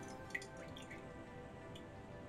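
Wax dripping off a candle just dipped into melted wax, a few faint, sparse drips, one slightly sharper, against a quiet steady background hum with no voices.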